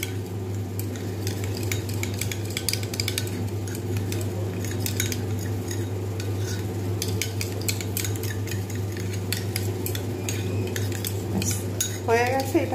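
Eggs are whisked with salt and turmeric in a bowl, giving steady, rapid clinks and scraping of a utensil against the dish throughout under a low constant hum, with no talking.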